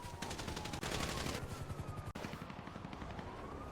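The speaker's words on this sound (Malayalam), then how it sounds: "മോബി മുച്ചിരിയാണ് ഫയർ ചെയ്യുന്നത്" Gunfire in a battle royale mobile game match, rapid overlapping bursts of automatic shots in dense, loud volleys that continue almost without break, layered over a busy background of game noise.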